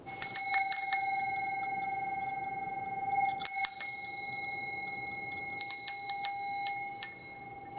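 Bright bell chimes ring out in three separate bursts, each a loud cluster of sustained metallic strikes with a long ringing tone, with no voices, inside a house investigated for paranormal activity.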